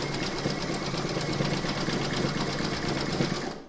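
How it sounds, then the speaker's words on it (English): An embroidery sewing machine stitches an in-the-hoop banner, a steady close rapid rattling hum running continuously and then winding down at the end. "You're now going to pop that back into your machine and stitch round number 8 to join them."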